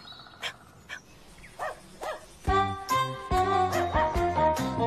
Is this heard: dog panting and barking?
yes